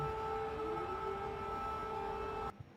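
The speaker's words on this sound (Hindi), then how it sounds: "ये सायरन बजा, आपने सुना।" A steady wailing air raid siren in Ukraine holds a sustained tone, droning continuously before cutting off abruptly near the end.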